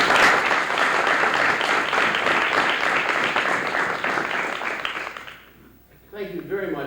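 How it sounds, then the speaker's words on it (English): Audience applause at a 1992 McDonald's speech contest, steady, fairly loud clapping from a room full of people that fades out near the end before a voice starts speaking. "All right, a round of applause."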